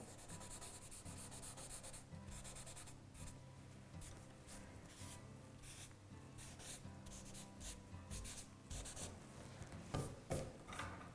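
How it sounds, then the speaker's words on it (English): Pencil eraser rubbing back and forth on drawing paper while shading a nose, with steady close scrubbing strokes repeating in quick bursts throughout, slightly louder near the end. "And then I'll use my eraser to bring out that shadow."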